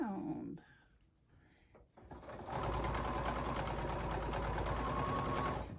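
A sewing machine stitches around a Poppins bag, starting after a brief voice and some quiet handling, then running as a fast, even, close whirring buzz for the last few seconds.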